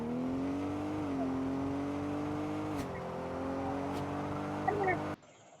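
A video game car runs steadily, its engine holding a droning pitch that rises and dips with gear changes and brief tire chirps before cutting off abruptly, while someone talks throughout.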